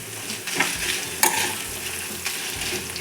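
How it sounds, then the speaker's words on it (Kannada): Garam masala and ten dried red chillies frying in hot oil for a village-style egg sambar, a close, steady sizzle broken by a few sharp scrapes and stirs, with no voices. "ಗರಂ ಮಸಾಲೆ ಫ್ರೈ ಮಾಡಬೇಕು ಹತ್ತು ಬಾಡಿಗೆ ಮೆಣಸು"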